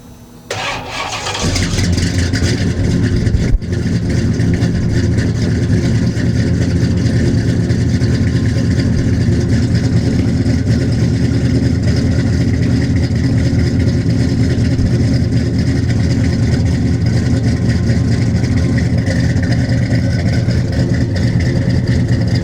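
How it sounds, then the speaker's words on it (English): A Firebird car engine cranks and starts, then runs loud and steady with a deep rumbling idle close up, and the revs rise slightly at times. "you guys want to hear the car?"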